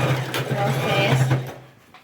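Sewing machine stitching across a patchwork rug made on a nonwoven fabric base, a steady close whirring run that slows and stops near the end.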